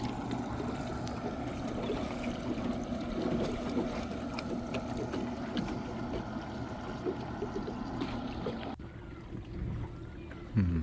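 A boat engine drones steadily on the water, a low continuous rumble with lapping water, fading somewhat near the end.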